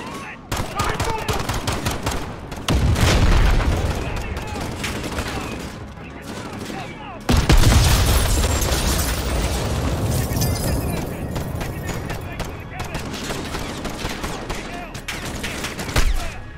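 Gunfire pours from a building in Call of Duty: Modern Warfare, with dense automatic bursts, rattling fusillades and booming impacts crowding the scene, loud and continuous with sharp surges.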